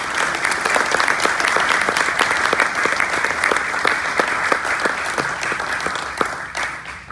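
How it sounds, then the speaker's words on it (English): A large audience applauds the flight instructors at the Able Flight 2023 ceremony. The clapping is loud and continuous, a dense crackling roar that holds steady for several seconds before tapering slightly. "let's give all the instructors another round of applause before they leave the stage."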